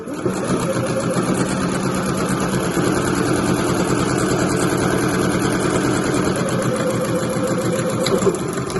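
A domestic sewing machine runs steadily, stitching an exterior pocket onto a weekender bag, with a continuous close, loud mechanical whir that holds an even pace throughout and has no talking over it.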